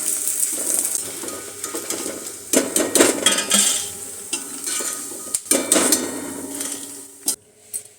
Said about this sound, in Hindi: अब यहाँ पे घी जो है गर्म हो गया है। अब गूंद को डाल देंगे